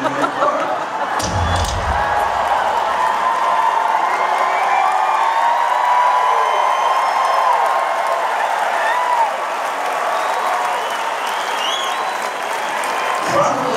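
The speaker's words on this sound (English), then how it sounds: "Look at the size of the crowd." A huge crowd cheering at Fenway Park in Boston during a concert, a sustained loud roar of applause and shouting from a distance, with a couple of thumps.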